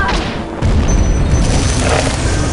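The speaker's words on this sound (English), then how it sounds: "The force of the explosion sent me flying." In the video game American McGee's Alice, an explosion bursts with a loud, close boom and a dense rumble that carries on for about two seconds.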